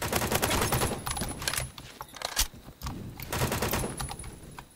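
Sustained battle rifle fire in Phantom Forces, dense rapid volleys with short pauses between bursts, loud and close throughout, no voices.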